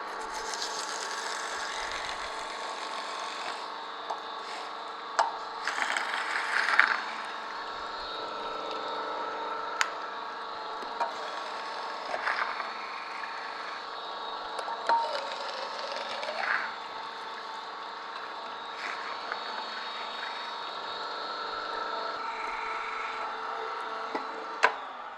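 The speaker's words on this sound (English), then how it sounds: "Now I'm just going to continue, turn it back on," An Angel Juicer 20K runs while juicing, a steady mechanical hum with a faint grinding tone and occasional small knocks and rattles throughout.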